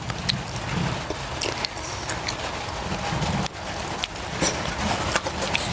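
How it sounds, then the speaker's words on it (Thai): Steady rain falls in a continuous dense patter with scattered sharper drops and taps, fairly close and loud, with no talking over it. "ฟังเสียงฝนตกเลย"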